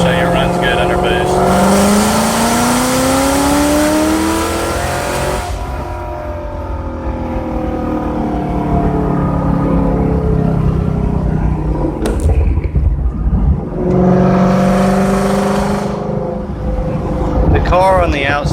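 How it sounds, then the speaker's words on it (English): A boosted Roush Mustang pulls hard in third gear, its engine note climbing steadily, easing off, then surging again, loud and close from inside the car, with someone talking over it. "this is just a little third gear pull right here. Just show you it runs good under boost."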